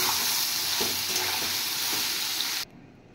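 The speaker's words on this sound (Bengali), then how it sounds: "এবার আমি সয়াবিনগুলো ছেড়ে দেব।" Soybean chunks dropped into hot oil with salt and turmeric, a dense loud sizzle with a couple of soft stirring knocks, cutting off abruptly before the end.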